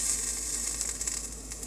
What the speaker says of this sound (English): now we're going to cook the dough in the frying pan